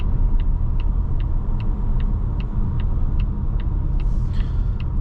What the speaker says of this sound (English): Let's see how well she can U-turn.